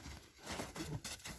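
An eight-year-old Orlov trotter stallion named Hercules trots along, its hoofbeats a quick, steady clip-clop heard from a moderate distance over background noise, with no one talking.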